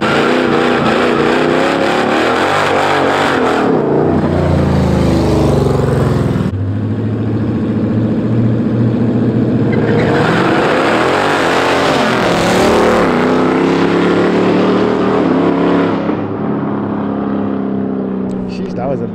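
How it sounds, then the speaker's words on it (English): Several Dodge Hellcat cars at a street meet rev hard in loud, rising and falling bursts, with squealing tires and crowd voices over the engines. "Got some more Hellcats pulling in."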